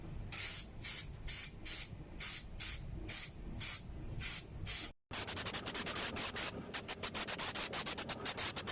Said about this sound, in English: So this is all sprayed with glue.